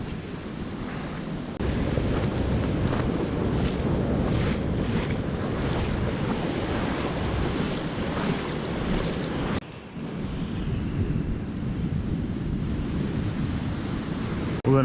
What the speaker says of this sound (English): All of this white water, waves rushing in.